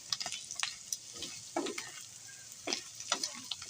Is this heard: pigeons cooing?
no